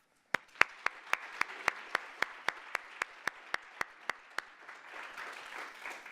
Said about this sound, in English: please join me in a round of applause to recognize both Rich, and Lulietta